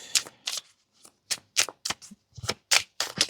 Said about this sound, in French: On va tirer une autre carte là